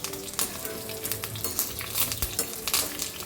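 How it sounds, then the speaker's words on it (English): Coriander seeds, curry leaves and fenugreek roast in a pan for a Palakkad-style dish, giving a steady close sizzle with scattered sharp crackles and pops throughout, and no voices. "Add the kadi patta and methi also. Just roasted nicely."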